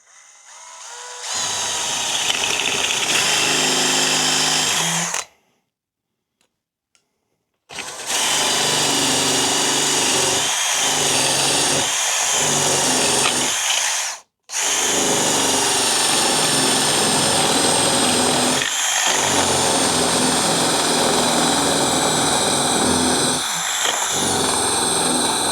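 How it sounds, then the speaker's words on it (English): A power drill whines loudly in long sustained bursts, stopping briefly twice, with the pitch wavering as the bit bores a center hole down into a wood block for a carpenter bee trap. "I'm going to be drilling a center hole through the top into the block"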